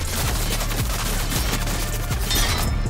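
Rapid automatic gunfire from the video game Fortnite, a dense rattling burst of shots running continuously throughout at close range with no talk over it.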